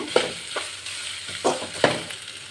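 A spatula scrapes through grated coconut and sautéed onions in a pan, giving four sharp strokes in an uneven rhythm over a low sizzle. It sounds close, with no talking.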